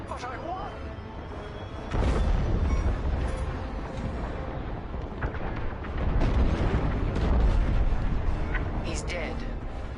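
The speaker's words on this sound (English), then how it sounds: "The frigate is about to explode." A frigate explodes in the Star Wars Squadrons video game, heavy booming blasts and rumbling bursts erupting loudly over an ongoing roar of battle, with characters talking amid the explosions.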